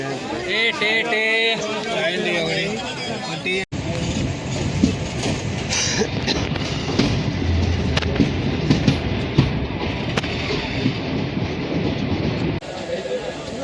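The Sabari Express, train 17230 from Secunderabad to Chengannur, rumbles and clatters steadily on the rails throughout, heard from inside a general coach with voices talking over it.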